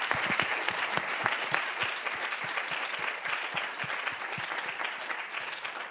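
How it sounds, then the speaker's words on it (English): At a conference session, the audience applauds the panel with dense, continuous clapping from a medium-sized crowd that fades slightly toward the end. "An applause for the panel."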